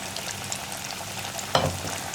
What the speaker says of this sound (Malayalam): ഞാനിപ്പോൾ ഇത് പൊരിക്കുന്നത് ലോ ഫ്ലെയിമിൽ വെച്ചിട്ടാണ്